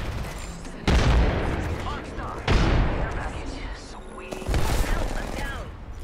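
Gunfire in a first-person multiplayer shooter, with three loud bursts of shots hitting at regular intervals over a rumbling battle bed, while players talk over it.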